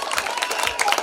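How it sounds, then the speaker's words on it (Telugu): Brief burst of crowd applause and cheering at a Sankranthi cultural festival, clapping for the committee and volunteers, moderately loud and dense. "సో ఈ 5 సంవత్సరాల నుంచి ఎంతో కష్టపడి పనిచేస్తున్న మన కమిటీకి, వాలంటీర్స్కి అందరికీ ఒకసారి గట్టిగా చప్పట్లు"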